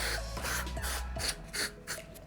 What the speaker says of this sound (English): I will use my body spray